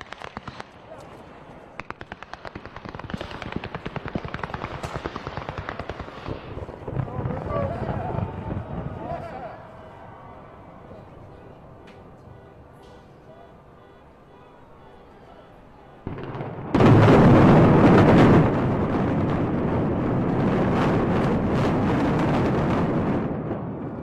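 Implosion demolition of the Riviera building in Las Vegas, with crackling firework-like charges and blasts building over a continuous roar, then a sudden louder rumbling collapse that keeps going, with crowd voices and talk mixed in.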